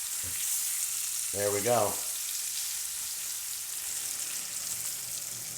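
Zucchini slices topped with melting cheese sizzle on a grill, a steady soft frying hiss running throughout, with a voice speaking briefly near the start.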